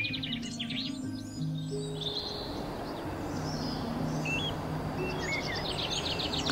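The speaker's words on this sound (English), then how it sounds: "Now I'm hearing birds coming from this direction." Several birds chirp and tweet from a short distance, their calls scattered over a steady outdoor hiss with no talking.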